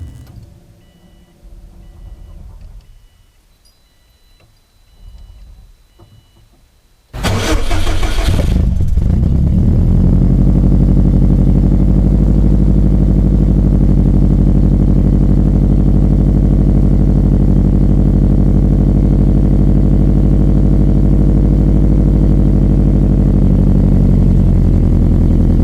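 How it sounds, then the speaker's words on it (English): Subaru STi engine in a garage cranking briefly after quiet handling noises, then catching into a loud, close, steady idle with a deep rumble that holds without pause. "let's get the STi started up and rolled out of the garage."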